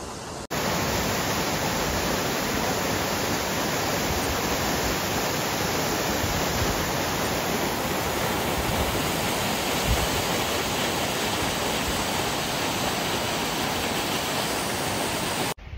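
Kanda Falls, a waterfall in Sikkim, roars as a loud, steady broadband rush of falling water that continues unbroken throughout, heard alone with no voices.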